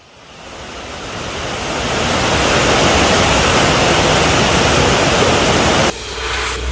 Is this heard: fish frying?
no